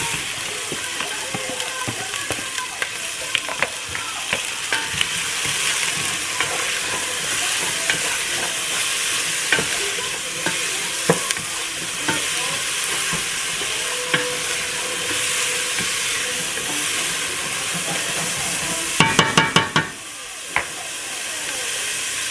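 Vegetables sauté in olive oil in a pot for stuffed pepper soup, giving a steady broadband sizzle with occasional stirring clicks, and a louder burst of scraping near the end.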